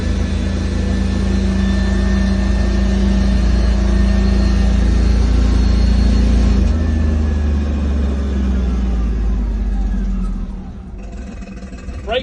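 A loud, steady JCB Workmax utility vehicle engine roars at speed with deep rumbling and road noise, easing slightly near the end.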